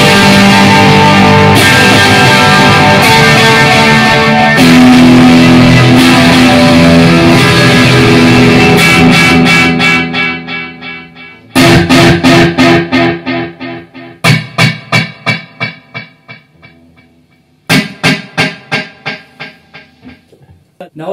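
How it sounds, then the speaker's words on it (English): Electric guitar played through a tube amplifier's crunch channel with high gain, giving a loud, thick distorted tone with effects smearing into sustained chords, then a run of sharp repeated chopped hits. "if we turn on the crunch channel with all that gain,"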